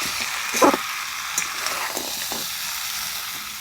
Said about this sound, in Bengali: এইভাবে আরও কিছুক্ষণ কষিয়ে নেব মশলাটা যাতে খুব সুন্দরভাবে ঢুকে যাবে